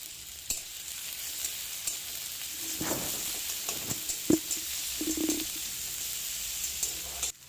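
Tomatoes, onion, garlic, coriander leaves and green chillies frying in a pan, a soft continuous sizzle with occasional clinks and scrapes of a spoon stirring them, fairly quiet and close.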